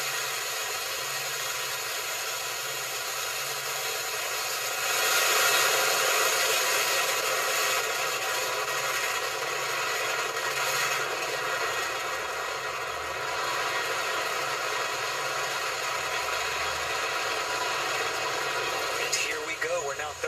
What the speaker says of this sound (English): On the Falcon 9, all engines are running at full power.